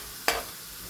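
Garlic frying in hot oil for a fish masala, a single brief burst of sizzle that flares up and quickly fades into a faint steady hiss, close by.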